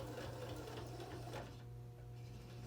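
A sewing machine runs a seam on a simple fabric bin project, giving a faint, steady low hum with a soft mechanical buzz throughout.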